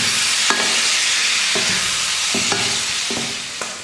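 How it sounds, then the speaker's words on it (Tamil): Egg, tomato and onion frying together in oil, a loud steady sizzle broken by several sharp scraping stirs of a spoon against the pan. "எல்லாத்தையும் ஒரே நேரத்தில் எண்ணெயில் சேர்த்து விட்டுட்டு நல்லா இதை ஆயிலில் ஃப்ரை பண்ணணும்."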